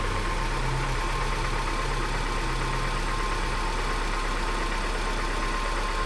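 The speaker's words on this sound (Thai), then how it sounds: "ลองมาฟังเสียงเครื่องดูนะครับ" A 2015 Suzuki Carry small truck engine running on LPG idles evenly throughout, a low continuous hum with a faint mechanical tick, close by and unchanging, with no voices.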